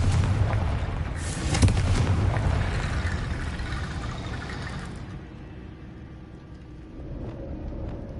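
Confringo fire blast spell in Hogwarts Legacy: a loud booming explosion bursts early, followed by a long rumbling roar that slowly fades into quieter ambience.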